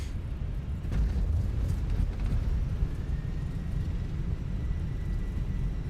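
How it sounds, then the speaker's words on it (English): Airbus A320 thrust reversers in a flight simulator roar on landing: a steady, loud, broad low rumble that holds for several seconds without letting up, with no speech. "Reversers are out."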